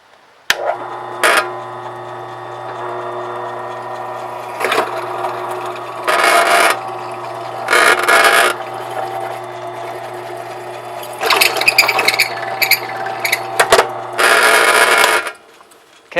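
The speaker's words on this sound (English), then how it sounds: "I'm going to go ahead and drill my 17 inch piece now on the one end." A power drill bores a hole into one end of a 17-inch piece for a homemade camera arm, the motor whining in several short bursts of a second or two each, separated by pauses with a steady hum underneath.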